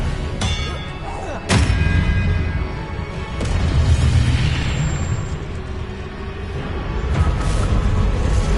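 Expelliarmus spell cast in Hogwarts Legacy, heard as a few loud booming thumps and bursts over a dense, rumbling game soundscape.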